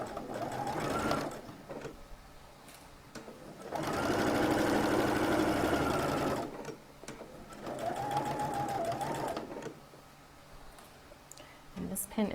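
A sewing machine stitches a collar seam on a garment in bursts of steady whirring with short pauses between runs, sitting close and fairly quiet.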